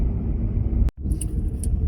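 Hyundai Grand i10 car driving, a steady low interior road rumble with a brief cut of silence partway through and faint light clicks afterward.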